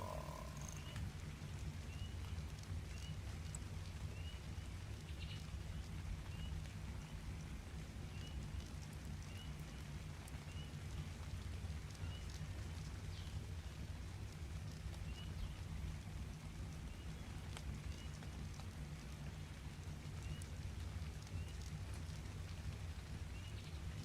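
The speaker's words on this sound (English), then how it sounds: "I doubt it'll stop the actual visual of the rain falling on our head" Steady rain falls evenly and softly in Ark: Survival Evolved, a continuous hiss with faint ambient wildlife-like chirps, alone and quite quiet throughout.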